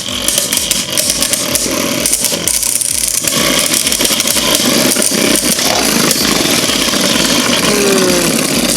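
Beyblade Burst Superking tops, including Glide Ragnarok, are launched into a stadium and battle there. The near clatter is loud and dense, with rapid metallic scraping and repeated knocking collisions throughout.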